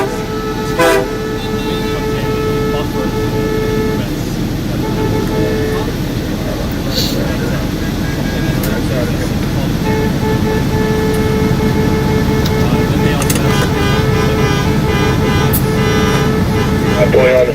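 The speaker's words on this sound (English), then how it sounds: "We came out here to honk, didn't we?" Car horns sound again and again as a convoy honks at an intersection, long toots overlapping above traffic noise while people talk close by.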